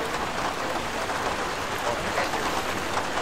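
Heavy in-game rain in Arma 3, a dense, even hiss of drops striking surfaces that fills the scene at a steady loud level without letup.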